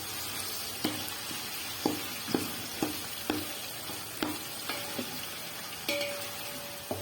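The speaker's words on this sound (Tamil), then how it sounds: "இஞ்சி பூண்டு பேஸ்ட் நல்லா வதங்கணும்" Ginger garlic paste frying in oil for chicken biryani gives a soft, fairly quiet hiss, with a regular series of light ladle taps and scrapes against the pot roughly every half second.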